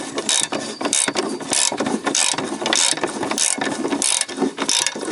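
Bolts on the exhaust pipe of a 1992–2002 Toyota Camry are worked loose with a ratchet, giving loud close bursts of rapid clicking that come in repeated strokes with short pauses between them.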